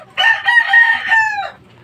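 A fighting rooster of a game-fowl breed crows once, a loud, close, sustained call of about a second and a quarter with a rising start and falling tail, with no talk over it.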